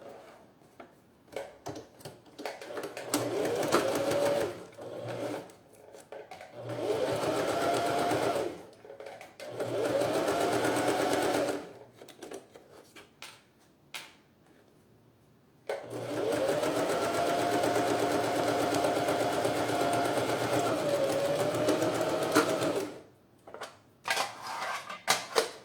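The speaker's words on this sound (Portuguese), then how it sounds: "E aqui é só costurar." A sewing machine stitches a synthetic-leather double wallet in three long runs of steady whirring, separated by pauses, with near, loud motor hum and no talk.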